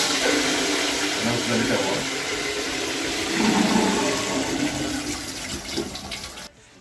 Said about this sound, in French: Puis on tire la chasse comme ça.